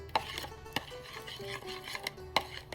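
Herbs, lemon juice and olive oil being mixed in a bowl with a utensil, giving close, sharp clinks and scraping strokes at an uneven pace, with a soft background hum.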